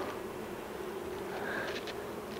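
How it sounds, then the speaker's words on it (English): Honey bees droning steadily in an opened hive during a frame inspection, a faint continuous buzz with no talking. "I can hear the bees buzzing"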